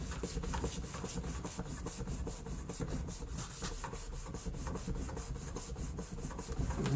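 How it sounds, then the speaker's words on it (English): Paper is burnished flat onto a shaker box frame with quick, rhythmic rubbing strokes that repeat evenly for several seconds, making a close, soft scraping swish with no talking. "lay that flat like that and give it a good old burnish"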